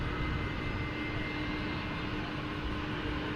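A Boeing 787 Dreamliner at DFW International Airport produces a steady, loud, broadband engine roar with a faint tonal hum underneath, continuous from start to finish.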